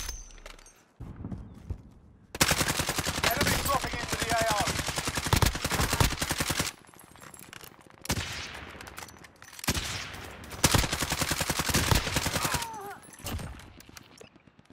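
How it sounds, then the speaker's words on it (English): Rapid bursts of automatic gunfire in Call of Duty Warzone Plunder mode, loud and close, arriving in several long volleys separated by brief quieter gaps with faint game ambience. "Taking fire over here!"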